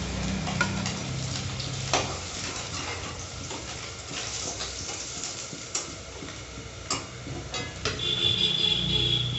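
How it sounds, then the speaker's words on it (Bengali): Fish fries in hot oil in a pan with a steady, soft sizzle and crackle throughout. Occasional sharp ticks and clinks from stirring rise above it. "একটু লাল লাল করে ভেজে নিয়েছি একদম দেখো লাল লাল একদম জ্যান্ত মাছ"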